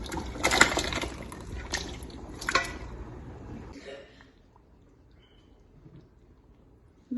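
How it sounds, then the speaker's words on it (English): Wet squishing and sloshing as beef stew is stirred in a pot, soft close-up spoon movements for a few seconds before fading to near quiet. "Let's mix, stir our food."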